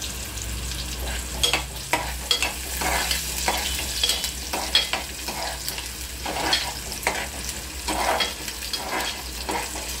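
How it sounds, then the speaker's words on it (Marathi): Chopped onion frying and being stirred in a pan for chana masala, a steady close sizzle with repeated scraping stir strokes throughout, no voices. "कांदा पूर्ण लाल भाजू द्यायचा।"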